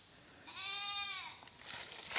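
Goats on a farm property in the Ozark mountains. A single nearby goat gives one drawn-out, quavering bleat over quiet background.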